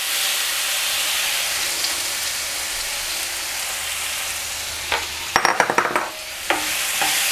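Finely chopped ripe plantain frying in ghee, a continuous loud hissing sizzle that turns into a burst of clattering, scraping stirring strokes near the end, close and without talk.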